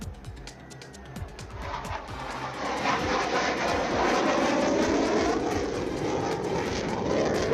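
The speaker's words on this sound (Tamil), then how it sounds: "உள்நாட்டிலேயே தயாரிக்கப்பட்ட தேஜஸ் MK-1A ரக போர் விமானத்தின் சோதனை ஓட்டம் வெற்றிகரமாக நடைபெற்றது" A domestically built Tejas MK-1A fighter jet on a test flight at Nashik, Maharashtra, its engine roar swelling from a quieter start into a loud, sustained broadband rush that holds steady to the end.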